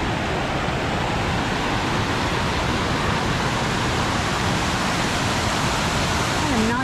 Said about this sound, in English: And a pretty little waterfall.